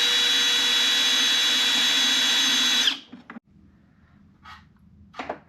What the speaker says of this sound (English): so we got that first hole drilled